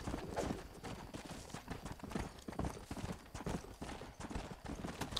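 Horse hooves clip-clopping in the Red Dead Redemption video game, a quiet, steady rhythm of hoof strikes with a faint background bed and no talk.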